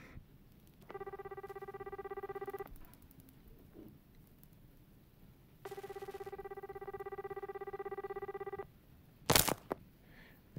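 A telephone ringing in an office, two long electronic ring bursts separated by a pause, followed by a sharp clatter as the receiver is picked up, with low background noise.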